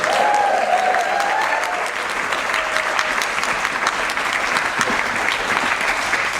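An audience applauds and cheers to welcome speaker Danny Nemu, loud dense clapping with some whoops that holds steady throughout.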